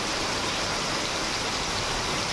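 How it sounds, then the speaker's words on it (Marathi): Heavy rain falling outside a house in the early morning, a dense continuous hiss of downpour that stays loud and steady throughout, with no voices. "खूप जास्त पाऊस पडत आहे."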